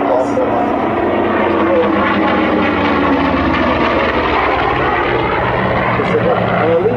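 A Corsair warplane flies at the 2007 Duxford Flying Legends air show, its engine a steady, loud, continuous roar throughout, with commentary talk running underneath.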